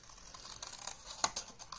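Scissors cut paper for a handmade gift card holder, giving a series of light, uneven snips and scratchy crunches with one sharper cut near the middle, close and fairly quiet.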